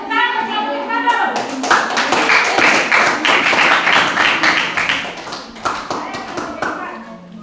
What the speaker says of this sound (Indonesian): tepuk tangan kelompok 4 dulu